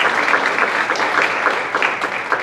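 Conference audience giving a round of applause, dense continuous clapping from many hands, close and loud with slight swells, filling the whole moment without speech.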